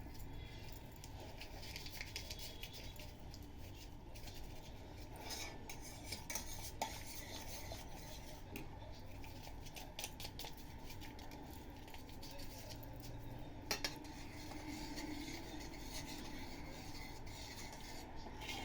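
A spoon stirs cooked sugar syrup for kunafa rolls in a pot, with faint, irregular scraping and clinking against the metal that runs steadily under a low kitchen hum.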